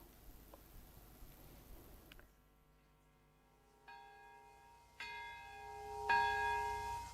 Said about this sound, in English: Twin cathedral bells rang in unison Saturday in Japan's Nagasaki